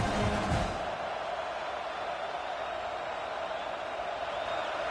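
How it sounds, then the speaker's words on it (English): A football stadium crowd roars steadily and loudly throughout, a dense sustained wall of noise from a large audience trying to help their defense. "Listen to this crowd just shaking the girders of this place, trying to help their defense."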